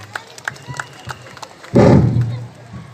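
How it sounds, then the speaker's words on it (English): An audience breaks into applause at a zone AGM to welcome a speaker to the stage: a sudden, dense burst of clapping and crowd noise that swells and holds after a stretch of quieter murmuring and thumps. "Let's give a huge round of applause"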